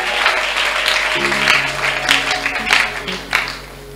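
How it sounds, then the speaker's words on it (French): A church congregation at a Sunday service and wedding blessing applauds to acclaim the Lord. Steady clapping from a crowd fills the room, with some voices and a sustained musical tone underneath. "Nous acclamons le Seigneur notre Dieu."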